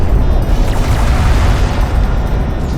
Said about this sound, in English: Enemy siege cruiser destroyed.